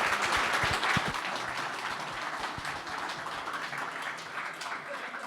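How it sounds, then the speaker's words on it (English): An audience applauds panellists after a discussion, a dense wash of clapping with a few sharper nearby claps early on, holding steady then easing slightly toward the end. "So a round of applause for our panellists."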